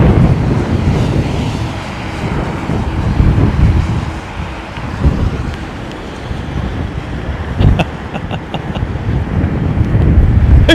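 Aircraft landing at London Heathrow Airport in strong wind: a continuous loud rumble of jet engines mixed with heavy wind buffeting on the microphone, swelling and easing across the whole stretch.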